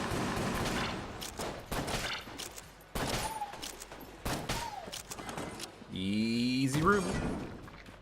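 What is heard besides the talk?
gunfire in video game Enter the Gungeon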